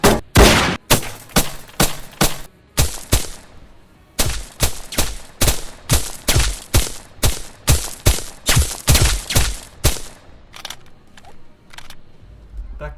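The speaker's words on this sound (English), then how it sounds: "The last element I've included with the bullet impact effect is an audio clip that is played" Rapid bullet impacts and shots from the Unity multiplayer FPS Operation Blacksun, loud sharp cracks in fast bursts with short pauses, tapering to a few fainter hits at the end.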